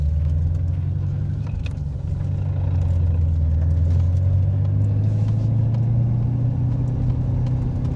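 A 1989 BMW E30 fitted with an LS1 V8 drives along a quiet road, its engine a steady deep rumble that rises slowly in pitch as it pulls, loud and continuous inside the cabin with no talk.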